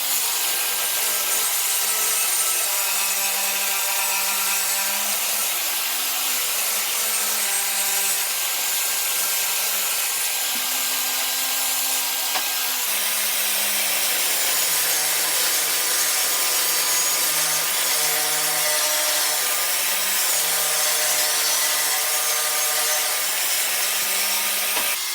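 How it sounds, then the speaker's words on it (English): A bandsaw cuts a cove shape into the wooden side pieces of a hall tree, giving a steady, close, continuous sawing whine with a rasp of blade on wood and no talking throughout. "on the bandsaw, we're gonna cut out a nice cove shape into these sides"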